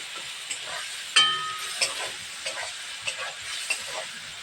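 Ginger paste stirred and fried in a pan for a Bihari-style chicken curry, a steady bright sizzle broken by a sharp scrape and several light clinks of the spoon against the pan.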